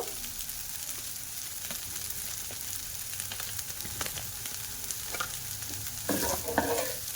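Steady scraping and sizzling as a spiced potato filling with chaat masala is stirred in a hot pan for potato chops, with continuous frying hiss and a few louder scrapes toward the end.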